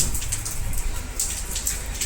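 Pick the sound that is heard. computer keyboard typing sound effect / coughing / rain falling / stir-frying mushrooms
rain falling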